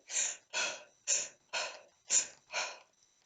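A voice imitates a monster's heavy panting: six breathy, rasping huffs in steady rhythm, close and fairly soft.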